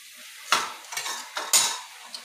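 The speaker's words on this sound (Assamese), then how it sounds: "এতিয়া তেলতে মই কেইটামান কালজিৰা দি দিম" Nigella seeds hitting hot oil in a pan for a rohu fish and pineapple fry, giving short bursts of crackle and sizzle with a few clinks between them, close and fairly quiet.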